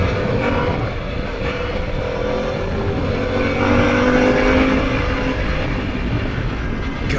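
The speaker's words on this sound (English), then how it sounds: "I really like the sound this bike has." A 2021 Harley-Davidson Pan America motorcycle on a Texas demo ride, its engine a steady, loud, deep drone that holds evenly and swells slightly midway, with no talking.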